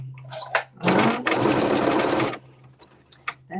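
A sewing machine runs in one continuous burst of fast stitching lasting about a second and a half, with a low hum before and after and a few light clicks around it.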